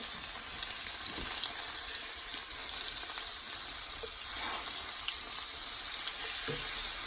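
Pork chops sizzle in a hot pan just after being flipped, a steady, close frying hiss with a few soft knocks and shuffles, continuous and without speech.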